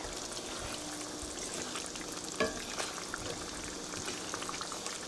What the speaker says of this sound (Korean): 조금씩 넣으면서 저어주세요. 너무 많아도 걸쭉하니까요. 살살 저어주세요.